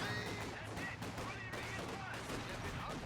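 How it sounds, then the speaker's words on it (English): Rifle grenade blasts and rifle fire from the Company of Heroes 2 battle crackle densely in a continuous busy barrage, with sharp bursts overlapping throughout and voices murmuring faintly underneath. "Rifle grenade in the center here against the conscript squad"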